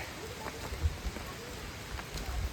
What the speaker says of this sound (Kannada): ಫುಲ್ ಮಳೆ ಗುರು, ಫುಲ್ ಮಳೆ.